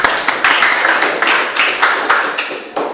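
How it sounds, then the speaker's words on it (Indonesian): A small group clapping hands in a classroom, uneven bursts of close, sharp claps coming in irregular waves that rise and fade over a few seconds. "Iya, terima kasih, tepuk tangan."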